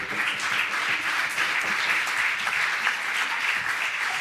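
A church worship concert audience applauds steadily and loudly, a dense, even wash of many hands clapping that holds for a few seconds with no voices on top.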